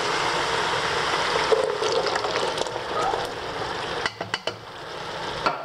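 Canned chickpeas poured with their liquid into hot oil in a pot, a steady wet sizzle and bubbling hiss with a few sharp clinks of a utensil against the pan toward the end.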